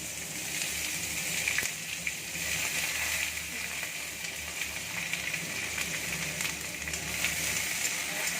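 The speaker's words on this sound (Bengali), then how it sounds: "পেঁয়াজটা ভাজবো" Onions frying in oil with bay leaf and garam masala for a chicken curry, a soft, continuous crackling sizzle with faint scattered pops, fairly quiet, no voices.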